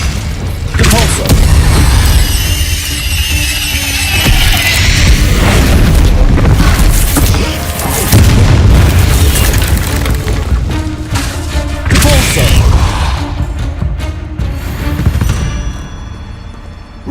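Depulso force spell blasting in the Hogwarts Legacy video game, a dense run of loud booming impacts and bursts filling the stretch with heavy thuds, under speech.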